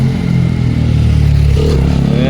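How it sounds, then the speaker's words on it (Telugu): A sports motorcycle engine rumbles loudly close by on a forested village road in Wokha, its low drone shifting as it moves past, with road noise and clatter. "sports bike"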